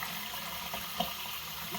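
Water runs steadily into a water softener's brine tank during the slow brine fill stage, a continuous soft hiss with a faint splash near the middle.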